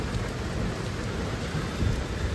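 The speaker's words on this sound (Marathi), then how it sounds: "पावसाने असा गोंधळ घातला आहे" Heavy rain pours down in a steady, dense hiss over a residential housing society, with low thunder rumbling underneath throughout and no voices.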